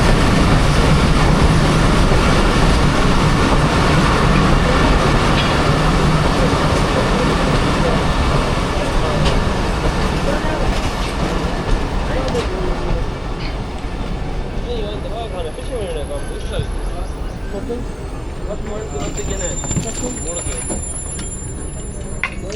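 The Jaffar Express passenger train rolls along the rails between Attock and Rawalpindi, a loud, continuous rumble with rattling carriages and clicking wheels, and voices talk faintly in the background.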